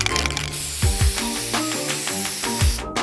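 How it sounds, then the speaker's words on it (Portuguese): Spray hissing into a large bottle during a food challenge, a continuous bright hiss with repeated mechanical clicks from the nozzle, close and fairly loud. "Spray na garrafa."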